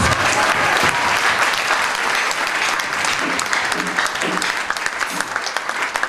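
A Christian congregation applauds God, with dense clapping that is loud at first and then thins into scattered, uneven claps toward the end.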